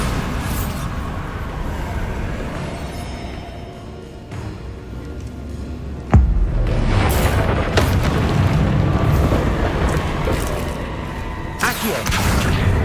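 The Bombarda blasting spell goes off in a Harry Potter video game as a sudden sharp boom midway. Rumbling game ambience and mechanical noise run before it and carry on loudly after.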